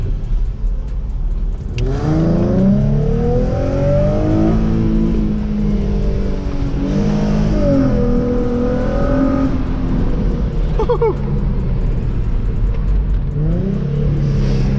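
A 2006 Infiniti G35 coupe engine with automatic transmission revs up and down repeatedly in manual mode, rev matching, close and loud, with rising and falling pitch sweeps as the revs climb and drop between gear blips.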